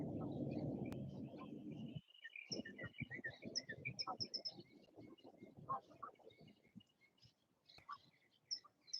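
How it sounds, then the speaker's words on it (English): Birds chirping and singing outdoors, scattered short high calls and trills at moderate distance over a quiet background, after a brief burst of low rumbling noise at the start. "Do you listen to the bird sound right now"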